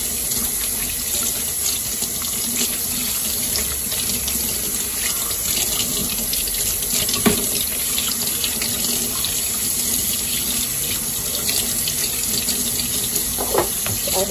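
Steady running tap water splashes into a sink as an aloe vera leaf is washed under it, a constant close-up rush with a few small knocks and no talking.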